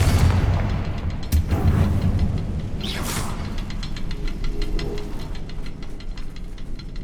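Confringo fire spell in Hogwarts Legacy, heard as a low rumbling boom and crackling burst with a sharp crack near the start, then a sustained rumble fading under faint rhythmic ticking.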